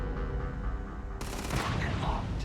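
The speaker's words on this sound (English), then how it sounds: "something exploded through there" An explosion erupts in the space RPG Starfield during a firefight, a sudden loud burst that follows a stretch of gunfire rumble.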